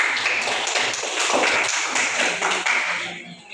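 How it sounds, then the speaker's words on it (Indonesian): A classroom of students claps for a group, a dense patter of many hands applauding together for a few seconds before trailing off near the end. "Kita kasih tepuk tangan dulu untuk kelompok."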